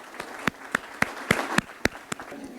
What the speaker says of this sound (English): Please join me in a round of applause for this incredible woman